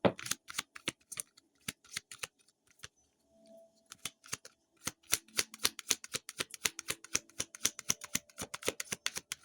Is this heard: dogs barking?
no